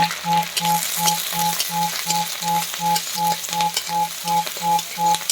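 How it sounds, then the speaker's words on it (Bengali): Chopped onion and garlic fry in oil with a continuous hiss, while a loud, evenly spaced tonal pulse repeats about every half second above it. "এটাকে একটু লাল লাল করে ভাজা করবো ভালো করে।"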